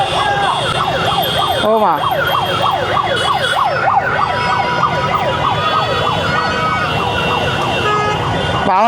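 Police car siren wailing loud and close in a rising-falling pattern during a crowded football fan rally, sustained over engine and street noise, with a person briefly exclaiming.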